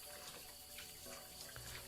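Shower water runs steadily in a DDLC mod visual novel, a very faint continuous hiss and splash with no talking.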